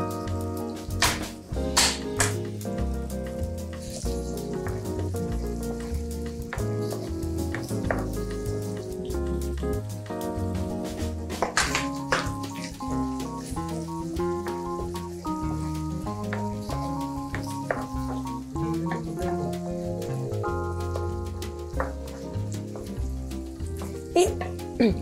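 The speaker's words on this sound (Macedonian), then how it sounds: "Додека месото се пржи" Meat and garlic frying in a pan, giving a steady crackling sizzle that continues under someone speaking at length, with occasional louder pops and spatters.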